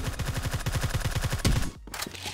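Rapid pistol fire in a first-person shooter game, a quick even burst of about a dozen sharp shots close up, then a louder crack and a brief gap before faint game noise resumes.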